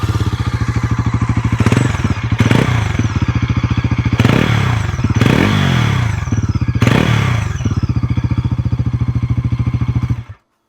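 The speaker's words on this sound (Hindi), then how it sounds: "एग्जॉस्ट है, मैं आपको एक बार साउंड सुना देता हूँ।" A 2025 Bajaj Pulsar NS 400Z with an underbelly exhaust idles close by with a deep, rapid thumping pulse, punctuated by several sharp throttle blips, before the engine cuts off at the end.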